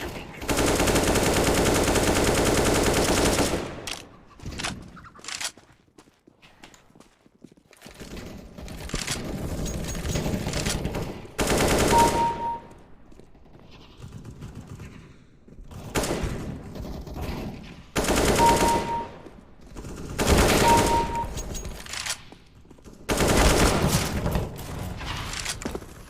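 Loud bursts of automatic machine gun fire from the video game CS:GO come in several separate volleys with quiet gaps between them, sharp and dense, close up and with no talk.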